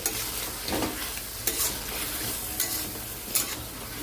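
A ridge gourd, potato and mustard curry is stirred in a pan: a steady close sizzle with four or so distinct spatula scrapes spaced about a second apart.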